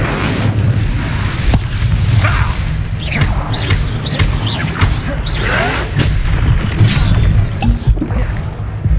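A fire spell blasts during a Hogwarts Legacy wizard duel, a loud whooshing burst over dense game combat effects and rumbling impacts, with the music and sound effects layered throughout.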